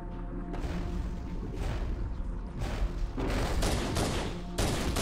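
Dense bursts of automatic gunfire and explosions in the Halo: Combat Evolved campaign mission 343 Guilty Spark, loud and continuous with overlapping shots and booms throughout.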